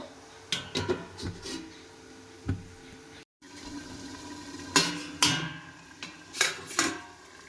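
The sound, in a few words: lid placed on pot of potato and mushroom curry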